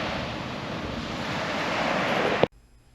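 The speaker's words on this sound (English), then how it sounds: "This is the beach I was at as far as we could go on Molokai." Continuous surf and wind roar at a beach on Molokai, a broad steady rush of waves close to the microphone with wind buffeting, cutting off abruptly near the end.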